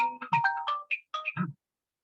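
A mobile phone ringtone plays a short melodic sequence of bright electronic tones, clear and close, then stops abruptly.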